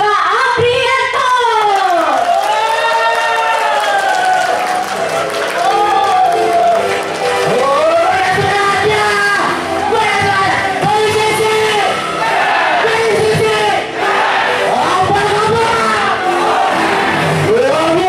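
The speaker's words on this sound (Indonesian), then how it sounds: "Saya minta tepuk tangan yang meriah, mari kita sambut Bapak Adrianto." An audience at a corporate championship event greets a speaker with loud, sustained cheering, whoops and yells over a background of clapping.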